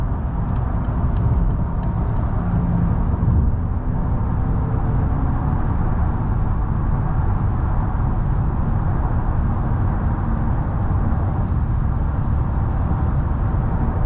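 A 2015 Mercedes-Benz S550 W222 with a seven-speed gearbox drives while downshifting, giving a steady, muted engine and road rumble heard from inside the cabin, even and unbroken throughout.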